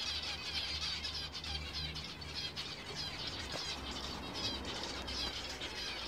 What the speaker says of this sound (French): T'entends les oiseaux?